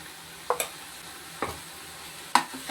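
Ground pepper and cumin frying in a pan for prawn samosa filling, with a steady low sizzle under three or four distinct scraping stirs of a spoon against the pan, close up and with no talk.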